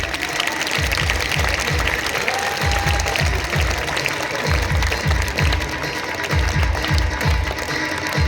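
Loud audience clapping at an Independence Day ceremony, a dense sustained wash of claps over a rhythmic mechanical ticking pulse in the background.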